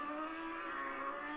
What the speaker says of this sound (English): Michael Dunlop, bike number 6 then, into that traffic chicane